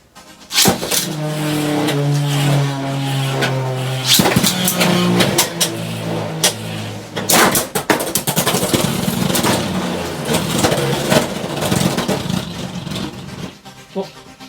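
Beyblade X spinning tops, Shelter Drake 7-80GP against an opponent, battle in a stadium after a sharp launch: a steady whirring, grinding spin with repeated scraping clashes and impacts for about thirteen seconds, then an abrupt stop.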